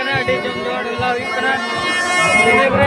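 Dense crowd babble at the Santipur Kali fair, many overlapping voices close around under a steady murmur of a packed festival gathering.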